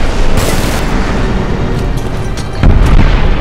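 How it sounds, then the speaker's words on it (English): A grenade blast in the video game Homefront, a loud, rumbling boom over dense battle noise, with a heavier thump landing near the end. "Toss a grenade!"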